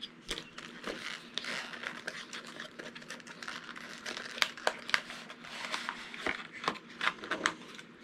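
Crinkling packaging as a product box with a Remote ID module is opened, a busy run of rustles, crackles and small snaps close up, with no talk.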